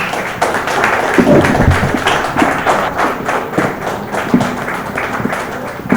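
A live audience at a journalists' and writers' gathering claps to welcome a poet, dense applause with some thumps, sustained and fairly loud for several seconds.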